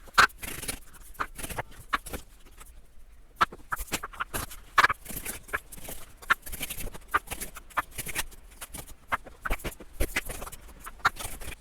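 Tarot cards being shuffled and laid out by hand: a quiet run of soft papery flicks, taps and brief scrapes in irregular bursts across the whole stretch, close and low in level, with no talking.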